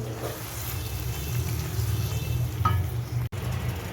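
Ginger and garlic paste saute in a pan for a koi fish curry: soft continuous sizzle under a low rumble, with a faint stir or clink near the end, fairly quiet and close.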